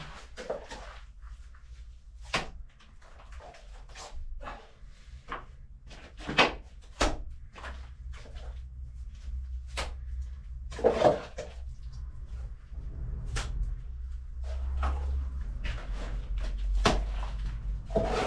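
Plaster being thrown by hand onto a garage wall, giving repeated irregular slaps and wet thuds at close range over a low background rumble.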